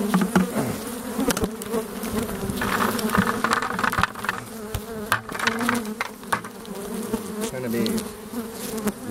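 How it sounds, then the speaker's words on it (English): Dense, agitated buzzing of many killer bees swarming close by during a hive removal, a steady angry drone with scattered sharp knocks and taps throughout. "These mad killer bees."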